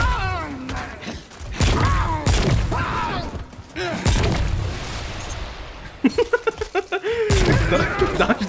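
Explosions and combat bursts in the video game Remnant: From the Ashes, with several thumping booms and crackling blasts layered under excited talking that comes and goes throughout.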